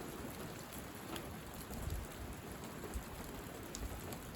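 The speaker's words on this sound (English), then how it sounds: "Good soaking rain." Heavy soaking rain falls steadily with a dense hiss and scattered close drops, and faint low thumps of possible thunder, a soft continuous wash with no talking.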